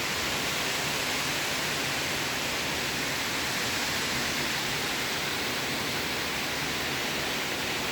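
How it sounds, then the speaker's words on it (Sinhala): Kirindi Ella, a 116-metre waterfall near Pelmadulla, Sri Lanka, roars as a steady, dense broadband rush of falling water, constant and loud throughout with no voices. "මේ කඩාගෙන වැටෙන්නේ කිරිඳි ඇල්ල."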